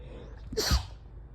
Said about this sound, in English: And I gotta sneeze.